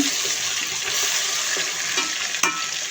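Garlic, onion and spices frying in a pan, a steady loud sizzle with soft stirring scrapes and a brief clink near the end.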